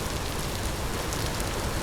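Rain pours in the survival video game Vintage Story, a dense, loud, continuous hiss of drops on surfaces with no voices.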